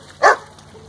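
A single short dog bark indoors, sharp and close, standing alone against a quiet room.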